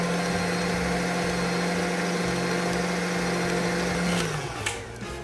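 An electric whisk beating buttercream topping for a yule log, a steady close motor hum with a low buzzing tone that drops away as it switches off near the end.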